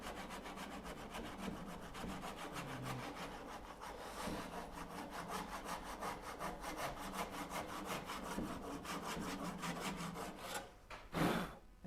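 A hand saw cuts a sliding dovetail in wood, sawing in a fast, regular rhythm of close, moderately loud strokes, then stops near the end for a short burst of breath blown across the cut.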